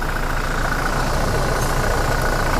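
A stock, unmodified 2016 Toyota Innova Reborn with a 2GD diesel engine and automatic transmission idles close by, giving a steady, even rumble with no change in pace or speech over it.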